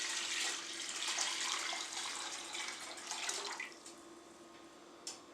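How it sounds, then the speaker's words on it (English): 1400 ml of water runs steadily into a pot in a broad hiss, then tapers off near the end with a faint splash. "we're going to add 1400 ml of water to a pot."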